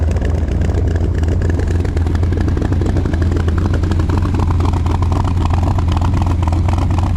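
A custom 1959 Chevy Apache truck engine roars loudly up close, a deep, steady rumbling drone with rough clatter running through the whole stretch and no voices over it.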